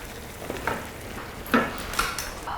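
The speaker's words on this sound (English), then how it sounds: "So just make sure to deglaze any flavor that's on the bottom of the pan" A hot pan deglazed with roasted orange capsicum tomato sauce, heard as a soft steady sizzle with a few scraping stirs of a utensil against the pan bottom, close and alone.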